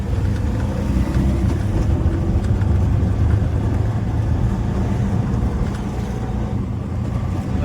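An auto rickshaw's engine drones steadily and close up throughout the ride, a continuous low rumble with road noise and no voices.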